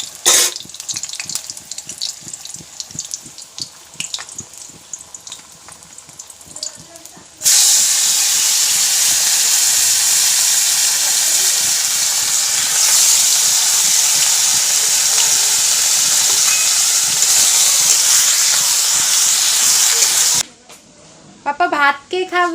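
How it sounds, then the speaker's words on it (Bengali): Eggplant slices fry in a pan in a home kitchen, a loud continuous hiss and sizzle starting partway in and holding steady until it cuts off near the end, with people talking before the sizzle begins. "আগে ওকে বেগুন ভাজাটা করে দিচ্ছি।"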